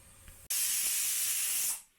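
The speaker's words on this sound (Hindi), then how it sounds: "तो ये आपने दाल में एक और सीटी अभी दी है" Pressure cooker cooking dal lets out a loud, sudden steam whistle hiss that holds steady for over a second and then tapers off.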